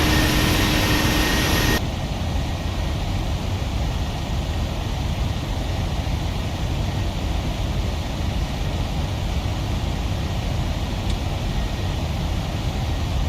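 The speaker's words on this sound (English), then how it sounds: "There's our 737-924ER that we're flying for the trip out." Boeing 737-924ER jet engines in the Prepar3D flight simulator, a dense, constant engine roar throughout with a slight shift in tone near the start and no voices.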